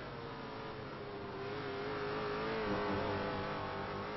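A train of race cars from the ELMS Petit Le Mans sweeps past, a sustained engine drone rising and swelling in pitch and loudness, heard from a distance with no voices.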